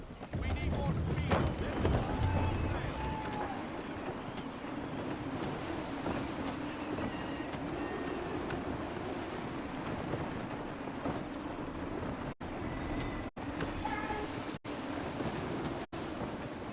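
Gusty wind and rolling waves around a sailing ship at sea in Assassin's Creed 3, a steady broad rush of wind and surf running throughout, with a few brief dropouts near the end.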